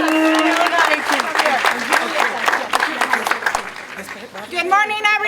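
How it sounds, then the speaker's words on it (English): A crowd at a labor union rally claps and cheers steadily for several seconds, dense and fairly loud, with a voice starting to speak near the end. "Big round of applause."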